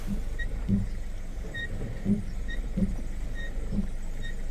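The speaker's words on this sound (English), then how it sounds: "my rotor, I think, is sticking on that side" Brake rotor sticking on one side of a Chevy Impala with worn-out brakes, heard as a faint rhythmic rubbing or squeal repeating about once a second over a steady low road and engine rumble.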